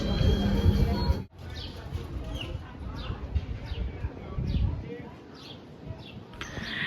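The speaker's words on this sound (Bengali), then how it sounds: "তুমি যখন হেঁটে যাচ্ছ পাখির আওয়াজ শুনতে পাচ্ছ" Pigeons coo and small birds chirp along a tree-lined street in Plaka, Athens, with faint intermittent calls and soft street ambience, a voice talking over the start and the sound of walking.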